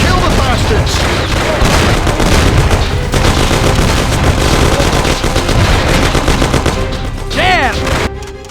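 Dense sustained gunfire from Mafia 1, with rapid machine-gun bursts and overlapping shots under a constant roar, loud and close, tapering off near the end with some voices and effects mixed in.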